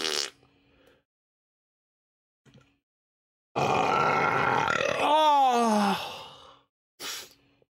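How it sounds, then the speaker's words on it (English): A man lets out a long, loud, rumbling burp that ends in a rising, strained tone, close to the microphone, set between brief quiet gaps and a short vocal noise afterward. "That burp was totally unnecessary. I'm just burping."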